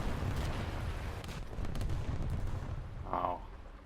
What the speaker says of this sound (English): This thing, however, has automatic cannon machine guns, so it's a little bit better suited to that.